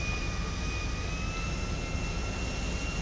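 A fixed-wing airplane engine drones steadily in GTA Online, a continuous moderate whine and rumble with no talking.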